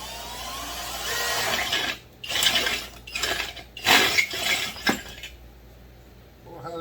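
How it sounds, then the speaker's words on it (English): Starter rope of a Stihl MS 261 chainsaw pulled slowly in several short, rasping tugs with metallic clicks, close by and moderately loud, ending in a brief quiet tap. "we're gonna pull on the rope till the piston's at the top dead center"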